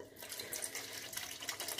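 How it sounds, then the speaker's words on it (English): Beef broth poured into a tin can holding leftover crushed tomatoes to rinse it out, a steady, close watery splashing and trickling that runs for about two seconds with no talk. "pour it in this can and get the extra tomato out."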